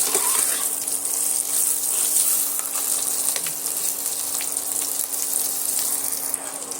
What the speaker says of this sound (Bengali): ডিমটা আমি হলুদ দিয়ে নেড়ে চেড়ে সুন্দর করে লাল করে ভাজা করে নিয়েছি